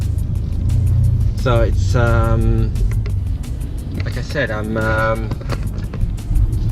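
A new BMW M5 on a test drive gives a continuous low engine and road drone from inside the cabin, heard under someone talking throughout.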